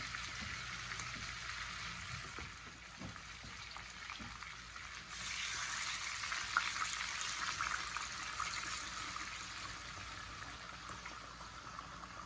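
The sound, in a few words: pouring beef broth and red wine into roast pan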